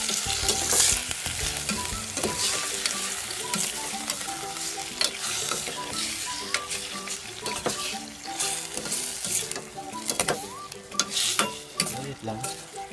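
Pork sizzles steadily in a pan as it is stirred, with a constant crackling fry and repeated scraping and clinking of a utensil against the pan. The sounds are close and fairly busy throughout, with no talking.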